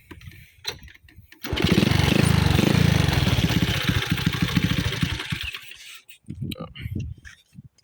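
A Honda Wave 125 motorcycle engine with a 57 mm bore running up close, a loud, steady putter that fades toward idle, with a faint tapping knock, and someone talking before and after.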